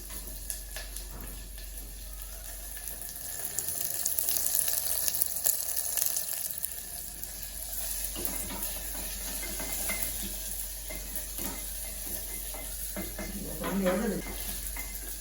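Onions sautéing in a pan for sambar, a low continuous sizzle with occasional stirring scrapes over a constant background hum, moderately quiet throughout.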